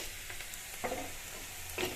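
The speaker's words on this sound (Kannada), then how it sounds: "ಹಿಂಡಿಟ್ಕೊಂಡಿರೋಂಥ ಸೊಪ್ಪು ಒಗ್ಗರಣೆಗೆ ಹಾಕ್ಬಿಟ್ಟು" Squeezed dill greens tossed into a hot tempering for a dill-leaf bassaru, giving a soft continuous sizzle with a few brief stirring scrapes, steady and close with no voices.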